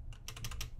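A computer keyboard is tapped several times in quick succession, short soft clicks close by with low background hum.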